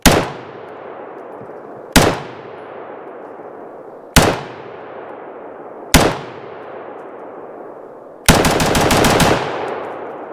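A CZ Bren 2A2 carbine fires four single loud, close shots about two seconds apart, each with a decaying echo, then a fast automatic burst of roughly eight rounds.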